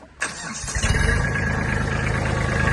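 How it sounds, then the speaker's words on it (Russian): A Kubota NB21 Japanese mini tractor engine starts and settles into a steady, low mechanical idle that runs on continuously, fairly close and moderately loud. "Трактор работает мягенько у нас."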